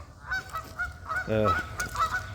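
Geese honk in a short cluster during an outdoor walk, several nasal calls overlapping nearby, with a deeper honk rising loud in the middle.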